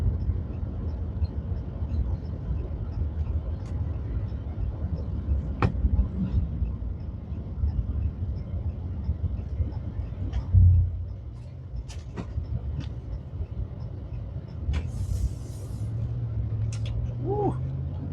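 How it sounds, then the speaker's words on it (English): A 2019 Dodge Ram 1500 pickup driving around the block: a steady low engine and road rumble runs throughout, with scattered clicks and knocks and a brief thump midway, and no talk. "Nana, how about we take this thing for a ride around the block so we can hear what it sounds like?"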